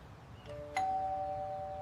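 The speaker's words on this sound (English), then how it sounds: "when that little bell rang, he still came" A small doorbell-style bell rings a single clear ding with a long, sustained ringing tail, preceded by a fainter tap, against a quiet room background.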